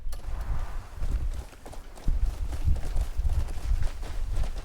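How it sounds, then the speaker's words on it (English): A horse gallops in the video game Crimson Desert, with a quick, rhythmic clip-clop of hooves running steadily and fairly close, alone without talk. "this horse can be fast too when it wants to be"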